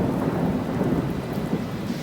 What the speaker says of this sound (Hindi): अल्लाह, ये बिजली कड़क रहा है ना, इतना कैसे कड़कता है मुझे डर लगता है